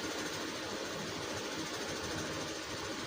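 A sewing machine runs continuously while stitching a collar dress, a faint, even whirring rattle with no pauses.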